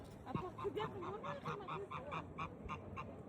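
A flock of geese in the Netherlands honking in rapid, repeated bursts, faint and somewhat distant, with a low murmur of background noise.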